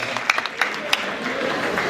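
Applause from a comedy show audience, a crowd clapping with a few sharper claps standing out near the start before settling into a steady, softer wash.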